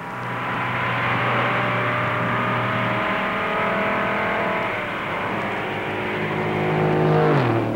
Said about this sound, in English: Richard drops into a corner wide open and turns the fastest laps ever run at Daytona in a stock car.